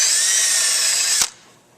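A power drill with a Forstner bit bores into wood for a splay-legged table, giving a loud, close, steady high whine that cuts off sharply near the end as the motor stops.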